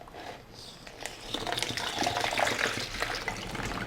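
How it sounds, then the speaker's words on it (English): Liquid trickles and splashes steadily through a tight mesh strainer while homemade probiotic cheese is being made, a close, continuous watery pour that grows slightly fuller partway through, with no talking. "You're just straining it through a tight mesh strainer."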